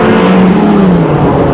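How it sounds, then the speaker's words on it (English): A Vauxhall Chevette rally car accelerating hard downhill on a forest rallysprint stage, its engine note rising loud and close in one continuous burst. "Going exceptionally well downhill, Barry Robinson from Wyndham. This Chevette beautifully prepared and running nicely too."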